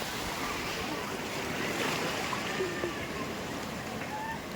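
Sea waves at Kanyakumari beach at night, where three seas meet, forming a steady, continuous surf wash at moderate distance, with a broad rushing texture and no talk.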